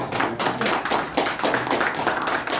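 Steady, dense applause from an audience at a book talk, many hands clapping continuously with no pauses, fairly loud and close.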